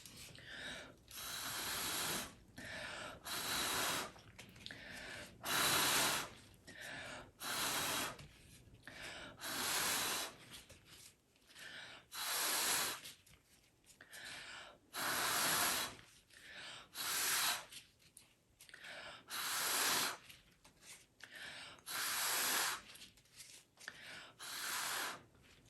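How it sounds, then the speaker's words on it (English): Repeated bursts of mouth-blown air pushing poured acrylic paint across a canvas, a dozen or so breathy gusts a second or two apart, close and fairly loud with short pauses between. "I'm gonna try and blow it with my mouth"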